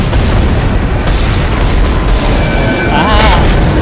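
An object shot apart in the sci-fi horror game Dead Space, a loud booming blast over dense, continuous game noise, with a brief higher crackle toward the end; a voice speaks faintly underneath.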